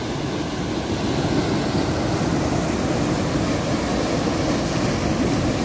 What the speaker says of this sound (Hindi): देखिए किस टाइप से पानी गिर रहा है यहाँ पे।